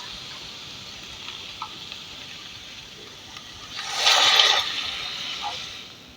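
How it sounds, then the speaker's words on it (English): Water is poured into a pan holding leftover cooked rice with chicken and vegetables, a soft hissing splash that swells for about a second and then settles into a faint sizzling trickle. "And we're going to put some water to get the rest of the rice out."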